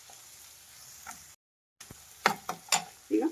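Vegetables, including beans, are stirred in a frying pan for masala Maggi noodles. A soft sizzle runs underneath while a spoon scrapes and clinks several times against the pan, close by.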